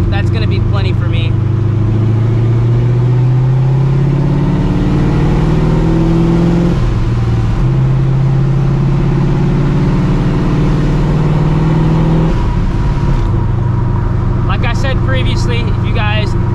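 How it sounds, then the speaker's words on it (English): A cammed, Procharged New Edge Mustang GT cruises with a steady engine drone, supercharger blower whine and wind noise, loud and close, rising and dipping through gear changes, with a short spoken phrase at the start and near the end. "that wind noise and the blower noise and everything is gonna get probably a little bit too much"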